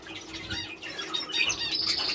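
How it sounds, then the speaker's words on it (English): A pair of five-year-old canaries, one female and one male, chirp and flutter close by in short bright twitters and soft wing rustles, without talking. "Here is 2 canaries, one female, one male, both 5 I believe."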